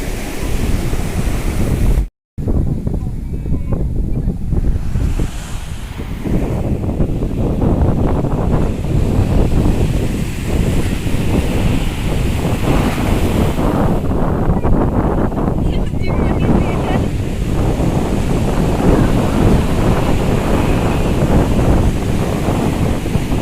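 Sea waves wash steadily onto Puri beach, a loud, continuous roar of surf churning close by with heavy wind buffeting the microphone throughout.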